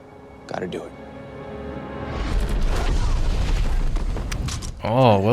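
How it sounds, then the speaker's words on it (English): A deep boom erupts in the Agent Carter season 2 finale, a long rumbling blast that swells and holds under dramatic scoring, with voices speaking around it. "Oh, Wilkes' explosion stopped him."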